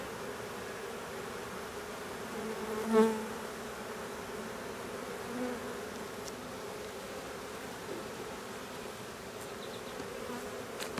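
Honeybees fanning in a new hive make a steady, faint, continuous buzzing hum with no talk, and one slightly louder bee passes briefly near the microphone.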